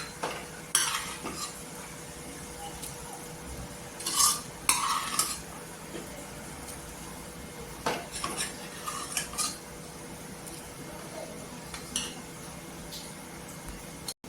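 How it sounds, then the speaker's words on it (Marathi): Boiled moth beans are added to a pan of misal masala and stirred, giving scattered metal spoon scrapes and clinks against the pot over a faint simmer, with no talk. "इथे आपण मटकी आहे ना बॉईल केलेली आहे ती टाकून घ्यायची"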